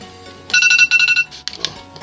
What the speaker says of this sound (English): That was my alarm to wake up for the battle